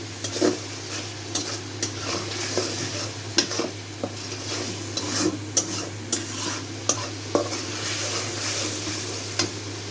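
Fish masala sizzles and fries steadily in a pan while a spoon stirs it, with irregular scraping taps against the pan throughout; close and moderately loud, no talk.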